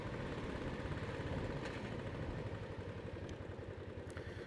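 Royal Enfield Classic 500 motorcycle on the road, a steady low single-cylinder thump and rumble mixed with wind, fairly faint, with no voices.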